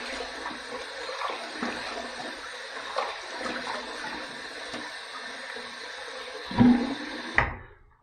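Tap water runs steadily while a Rex Supply Envoy razor is rinsed after a shave, a continuous close wash with a few louder splashes and knocks near the end; no talking.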